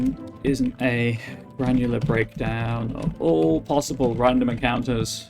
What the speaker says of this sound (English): you can hear the keystrokes in the background